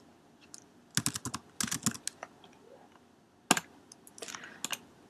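Typing on a computer keyboard in quick irregular bursts of crisp key clicks, close and fairly quiet, with short pauses between the flurries and no talk.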